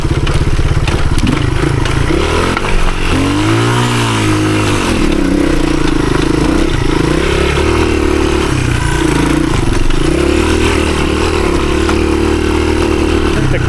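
A 1983 Honda XR200R, a small 15 hp trail motorcycle, climbs a hill in the woods in second gear, its single-cylinder engine loud and close, with the revs rising and falling steadily throughout.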